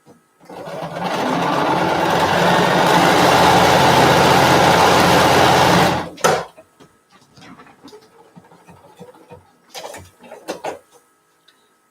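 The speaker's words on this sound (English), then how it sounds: "Now I'm going to sew these 3 bottoms together." A sewing machine runs loud and steady for about five seconds, joining quilt pieces. Its hum then stops, and soft handling clicks follow.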